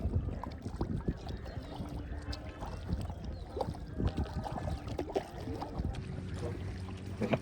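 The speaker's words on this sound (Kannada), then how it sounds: "ನಾವೀಗ ಹೋಗೋದು ಮ್ಯಾಂಗ್ರೋವ್ ಫಾರೆಸ್ಟ್ ಕಯಾಕಿಂಗ್ ಮಾಡೋದಕ್ಕ." Kayak paddle strokes splashing through mangrove forest water, close and continuous, with irregular watery dips and swishes over a steady background wash.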